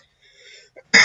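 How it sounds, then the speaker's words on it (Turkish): A man clears his throat in a short burst of coughing during a spoken tutorial, with a brief throaty murmur first, a small catch, then one loud sharp cough close to the microphone. "Bu geçmeyen bir gıcık var. Öksürmeyi de durduramıyorum."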